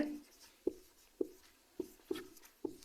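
Soft, short taps and scratches of handwriting while a polynomial problem is worked out, repeating about every half second, close and quiet.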